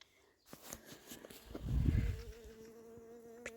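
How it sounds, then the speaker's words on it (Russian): Bees fly around spring primroses in a dacha garden in Visaginas, Lithuania, giving a low buzz that swells close by for about a second and then fades under quiet outdoor ambience. "Пчелки летают."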